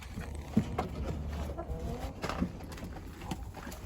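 Hens and a rooster cluck and murmur close by in a backyard coop, a continuous busy chatter with a few louder squawks over low background noise.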